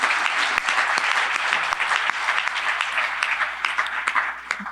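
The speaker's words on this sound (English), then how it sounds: "So let's give a round of applause to Larry and Roxanne and all they do." Sustained round of applause from a crowd at the Philadelphia Citizen of the Year awards ceremony, dense and steady clapping that stays loud and even for the whole stretch with no voices rising above it.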